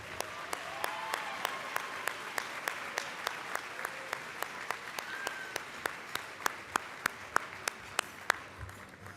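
An audience at an awards show applauds steadily for several seconds, a soft wash of clapping with sharper individual claps standing out at a regular pace.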